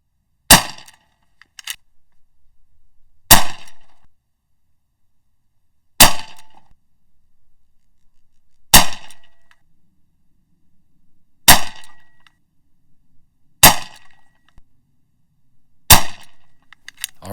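An AEA HP MAX 357 PCP air rifle fires seven sharp, loud shots, spaced about two to three seconds apart, on the bottom of its air fill, each report followed by a short fading echo, with no talking between them.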